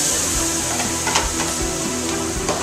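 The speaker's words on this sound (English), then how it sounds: "into this roux, which is perfect, we're going to add all the vegetables, along with the bay leaf" Vegetables and a bay leaf hit a hot roux for gumbo, setting off a loud, steady sizzle with the scrape and clatter of stirring, close up and without talk.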